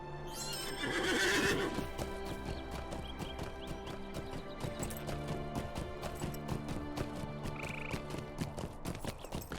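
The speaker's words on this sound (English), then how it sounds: "Nat Collop makes the horses gallop." Horses in Lord of the Rings Online gallop with a fast, steady clip-clop of hooves, and a loud whinny opens the run, all fairly faint with no talking.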